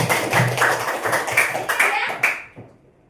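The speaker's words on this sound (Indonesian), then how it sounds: "Kita sekali tepuk tangan dulu ini" Classroom hand clapping from students, a brisk cluster of claps that tapers off and stops within a few seconds, close by.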